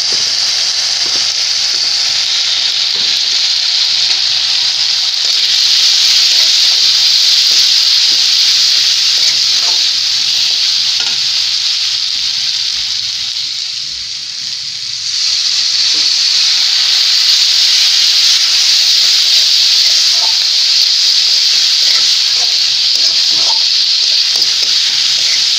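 Raw ground cumin fries in hot oil for a singara filling, a steady bright sizzle that runs continuously for the whole stretch, dipping briefly near the middle before resuming at full strength.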